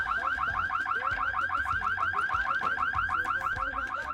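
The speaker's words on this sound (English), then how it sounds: "Sorry, the burglar alarm is real annoying." A burglar alarm in The Sims 2 video game rings in a fast, rapidly repeating warbling electronic pattern, steady and loud throughout with no talk over it.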